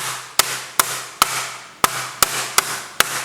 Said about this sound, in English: meat hammer and we're just going to pound this, starting with the spiky side